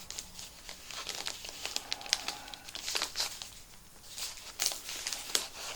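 Brown paper packaging from a mailed art delivery crinkles and tears as it is unwrapped by hand, a close, busy run of rustling crackles with sharper crisp bursts throughout, no voices.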